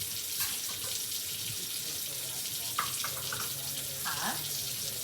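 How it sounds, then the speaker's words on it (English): Tap water runs steadily into a kitchen sink while a hand is rinsed off during cooking, a continuous close hiss with faint clinks on top. "Rinse my hand off."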